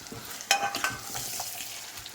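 A spoon stirs a gongura and dried prawn tempering in a pan with the stove switched off, giving soft scraping and faint sizzling in one brief, close burst.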